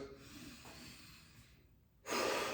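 Slow breathing into the rib cage during a ball exercise, a soft drawn-out breath that fades to near quiet, then a sudden loud, close airy exhale at the end, with no talking.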